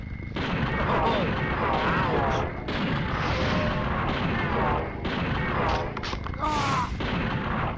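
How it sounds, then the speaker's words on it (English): Stake-firing weapon in the PlayStation game Evil Dead: Hail to the King, a rapid run of loud, punchy shots in bursts with brief gaps, close and dense with game noise. "I'm supposedly firing stakes here"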